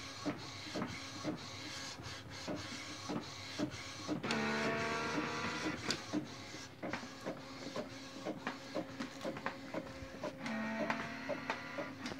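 An Epson SC-P600 printer runs with a steady mechanical whir while its ink pump pressurizes the cartridge, with intermittent clicks and a rising tonal hum in the middle, close and moderately quiet.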